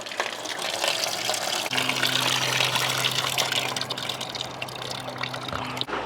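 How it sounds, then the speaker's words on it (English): Water gushes and splashes steadily into a pet's water bowl from a tap, a close, continuous pour with a faint tonal hum running through most of it. "Yeah, I'm getting you some water."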